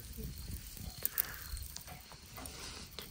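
Thick squid steak sizzling on a pan at a campsite, a steady close hiss with soft crackles running through, punctuated by a couple of faint sharp clicks.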